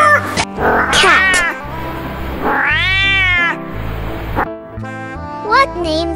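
A cat meows loudly several times in quick succession, some calls short and others drawn-out, wavering yowls, close and clear with brief gaps between them.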